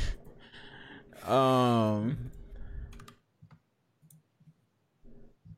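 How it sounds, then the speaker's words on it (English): Computer keyboard typing picked up by an open microphone during a voice chat, heard as faint, scattered key clicks close to the mic, with a brief voiced sound and some softer speech in the first half. "do you mind muting your mic when you're typing, please?"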